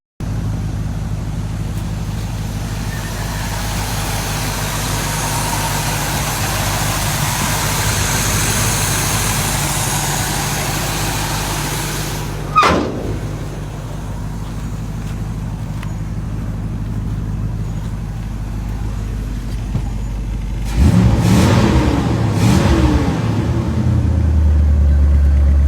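A 1964 Buick LeSabre convertible with a V8 engine running, a steady low idle rumble held for twenty seconds, interrupted by a brief sharp sound midway, then a louder, rougher revving burst near the end.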